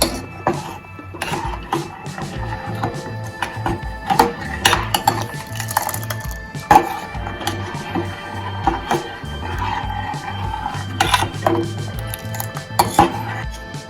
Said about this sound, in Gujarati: તો મિક્સ કરી લેશું।